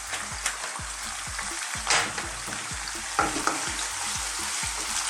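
Pasta sauce sizzles steadily in a generous amount of oil over fairly low heat, with black pepper added. A close, continuous crackling fry runs throughout, broken by a few louder scrapes of stirring.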